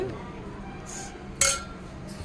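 Spoon clinking against a bowl while food is served at a home birthday celebration: a few light, bright clinks, one sharper than the others, over low room noise.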